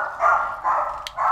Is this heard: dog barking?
yes